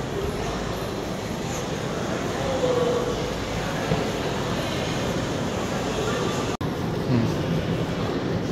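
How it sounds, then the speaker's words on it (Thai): Laos-China railway train at a station stop, with a steady low rumble of the train and station ambience throughout and a single sharp knock near the end as the locomotive is coupled. "รถไฟต่อหัวขบวนนะพี่น้อง"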